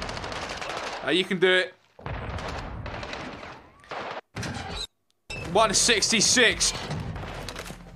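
Gunfire in Call of Duty: Modern Warfare II, sharp bursts of shots in clusters with brief gaps, loud and close, mixed with game voices and a player talking over it.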